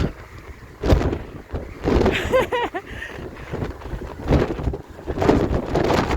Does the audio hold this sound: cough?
no